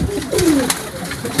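A pigeon coos nearby in a short, low rising-and-falling call over faint background bustle, heard alone without talk.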